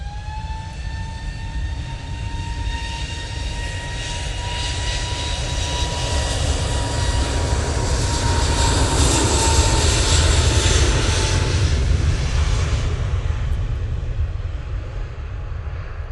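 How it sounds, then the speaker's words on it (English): Airbus A321neo jet engines at Manchester Airport, a steady broad roar with a slowly falling whine that swells toward the middle and holds loud throughout, heard alone. "There's that beautiful 321 Neo."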